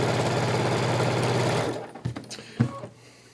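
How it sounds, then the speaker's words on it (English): Sewing machine stitching quilt blocks with sashing strips, a steady close whir for almost two seconds that stops, followed by a few light clicks and handling sounds. "I'm just going to kind of sew them to one side of each of these"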